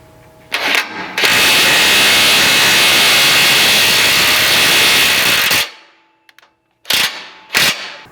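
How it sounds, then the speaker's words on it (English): An impact driver runs a thread-cutting bolt into a vehicle frame while fitting a rock slider on a third-generation Toyota Sequoia. One loud, sustained rattling burst lasts about four seconds, followed by two short hammering bursts after a pause. "take your thread cutting bolt and your impact, and you can get this threaded in"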